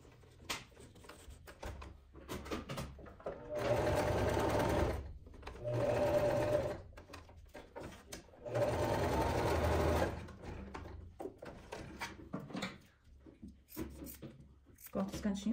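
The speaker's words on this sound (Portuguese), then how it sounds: "Eu vou dobrar uma parte. E vou costurar." A sewing machine runs in three steady bursts of rapid stitching, closing a folded seam on a nylon 600 bag, separated by quieter pauses with handling of the fabric.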